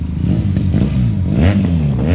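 QJMotor SRK 400 parallel-twin motorcycle engine revving up close at KM23 Marilao, Bulacan, a loud, steady rumble with rising and falling pitch across two seconds and no talk.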